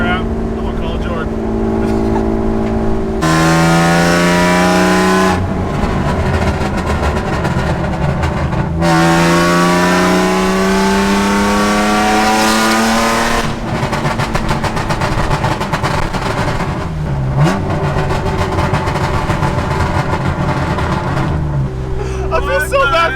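A straight-piped BMW E36 with no mufflers revs hard and loud, its exhaust note climbing and falling in repeated sweeps, with popping crackles in between and voices talking over it.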